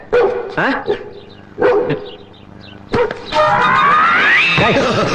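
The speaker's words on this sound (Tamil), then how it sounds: "இது நம்ம டிபார்ட்மெண்ட் மோப்ப நாய்." A police sniffer dog barks loudly and close by, giving several sharp barks in a row and then a longer rising whining yelp.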